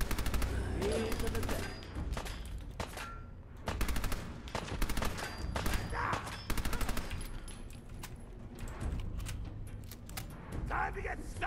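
Rapid automatic gunfire from the video game Fallout 4 rattles in repeated bursts and single shots, loud and close, with a voice talking over parts of the exchange.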